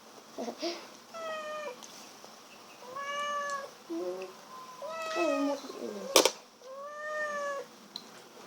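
A domestic cat meows repeatedly at close range, with a series of clear, drawn-out, rising and falling meows spaced through the moment and a brief sharp knock partway through.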